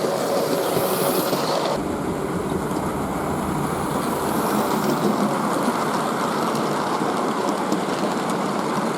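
A Crownline A22 model locomotive with a DJH motor and gearbox hauls a very heavy freight train. A steady, close rolling rumble and whir runs throughout with light rail clatter, and no voices.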